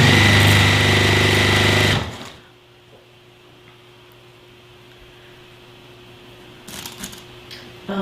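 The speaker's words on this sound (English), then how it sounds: "what I'm sewing on right now is a Juki" A Juki sewing machine stitches fabric with a loud, fast, steady mechanical whir for about two seconds, then stops abruptly, leaving near quiet and a faint hum before a few soft clicks and rustles.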